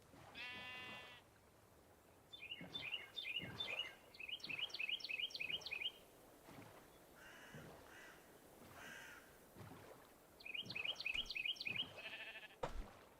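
Blocky Minecraft sheep bleat in repeated, slightly buzzy bursts, coming in clusters across the clip, with a crow-like caw and other game noises scattered in between and no talking.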